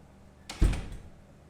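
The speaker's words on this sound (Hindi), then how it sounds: "दरवाजा बंद कर देना प्लीज" A door is pushed shut with a single firm thud and a brief rattle, fairly close and alone in a quiet room, no voices.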